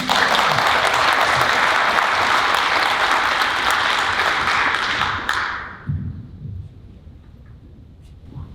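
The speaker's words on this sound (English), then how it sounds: "please give him a round of applause" A conference audience at a water summit applauds a keynote speaker, a dense, loud wash of clapping that holds steady for about five seconds, then cuts off abruptly, leaving scattered quiet room noise.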